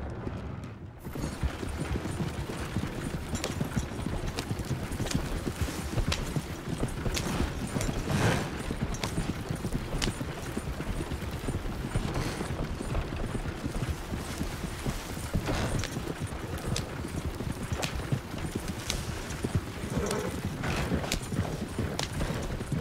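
A horse trots in the video game Red Dead Redemption 2, hooves clip-clopping in a quick steady rhythm over a continuous wash of ambient outdoor noise, moderately close and fairly quiet.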